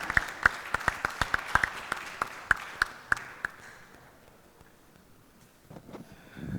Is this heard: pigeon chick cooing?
no